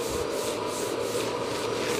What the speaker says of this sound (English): I'm gonna block it a little bit more with a long block and some 320 grit